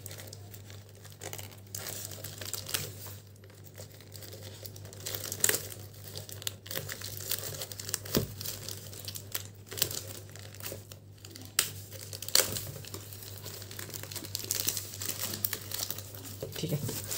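A plastic packet is crinkled and torn open by hand nearby, a faint run of rustling and crackling bursts over a low steady electrical hum, with no voices.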